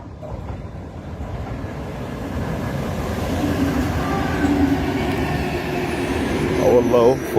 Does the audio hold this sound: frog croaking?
no